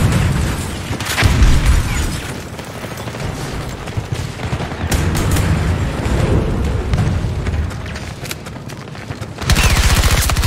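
Battlefield 2042 Conquest combat where a thrown grenade detonates, one booming explosion rising among sustained rifle and machine-gun fire and more blasts, loud and close throughout.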